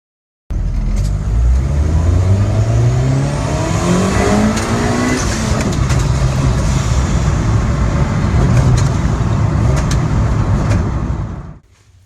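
A car with a misfiring engine and a flashing check engine light revs up and bucks, loud and close, its pitch climbing in surges and then dropping, alone for about eleven seconds.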